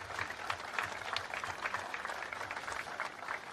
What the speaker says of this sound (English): join me in giving everybody involved in the ICC a round of applause